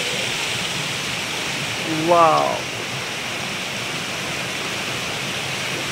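Waterfall in the Keshkal area of Kondagaon, Chhattisgarh, rushing as a steady broadband roar throughout, with a brief exclaiming voice over it midway.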